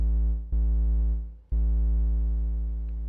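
A synthesized drum tone shaped with an envelope, like an 808, heard as three deep booming hits, each with a sharp attack and a sustained low tone that slowly decays.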